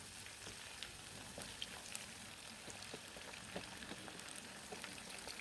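Eggplant pieces frying in oil in a pan for balado terong pete, giving a faint, steady crackle with scattered soft pops and spits, heard close and quiet with no voices.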